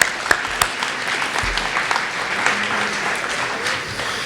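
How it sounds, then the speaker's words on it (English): Steady applause from an audience at a fall sports awards ceremony, filling the room at moderate level with a few sharper claps and a low thump near the start. "So a huge round of applause."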